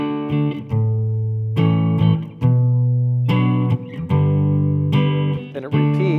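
Electric guitar playing a section of a song, a series of ringing chords and short melodic fills with distinct attacks and pauses between phrases, played alone at moderate volume.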